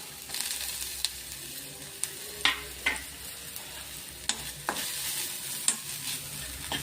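Crushed ginger, pepper, cumin, asafoetida and cashews frying in ghee in a kadai, a low continuous sizzle with intermittent clinks and scrapes of a stirring spoon, close and fairly quiet.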